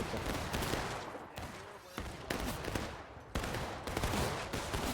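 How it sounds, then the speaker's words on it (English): Dense volleys of gunfire crackle through a historical battle video game, overlapping shots rolling in irregular bursts at moderate distance, with faint voices mixed in beneath. "Being shot from the gap, guys, be careful."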